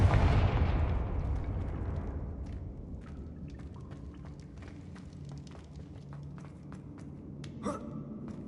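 A Confringo blasting spell explodes in Hogwarts Legacy on PS5, opening with a loud booming burst whose rumble fades over a couple of seconds into low game ambience, with a sharp crack near the end.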